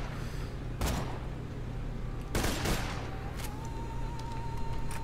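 A couple of distant gunshot bursts in Borderlands 2, over a steady low in-game hum.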